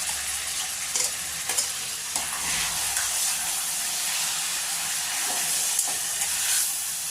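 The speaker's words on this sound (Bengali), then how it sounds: "এবার আমি গ্রেট করা পেঁয়াজটা দিয়ে দিলাম।" Grated onion fries in a pan for Gandhoraj chicken, a steady broadband sizzle with faint stirring scrapes, close and continuous throughout without any voices.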